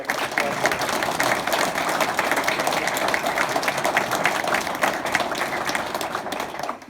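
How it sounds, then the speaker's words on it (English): Audience applause at a police awards ceremony, a steady, dense crowd clapping that holds at an even level throughout before tapering at the very end. "So if you would join me in a round of applause for Greg."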